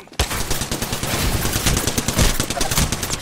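Video game gunfire: rapid automatic bursts of shots in quick succession, loud and close, one sharp shot at the start and then continuous rattling fire with no speech.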